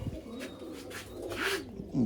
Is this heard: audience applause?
no